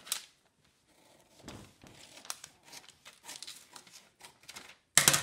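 Scissors snip through a curved paper shirt yoke pattern in a run of crisp cuts and crinkles over several seconds, with a louder rustle of paper at the end.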